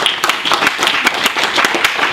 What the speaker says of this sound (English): So guys, give her a clap.